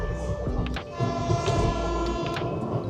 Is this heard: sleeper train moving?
yes